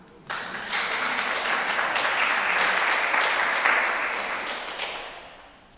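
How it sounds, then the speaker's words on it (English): An audience at a financial forum meeting bursts into applause, clapping steadily and fairly loud for several seconds before fading off at the end. "Round of applause for Dan, who's doing a tremendous job."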